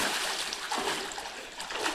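People bathe and play in water at a farm, and a continuous close splashing and sloshing wash fills the whole short stretch.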